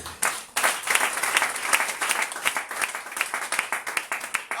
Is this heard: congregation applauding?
yes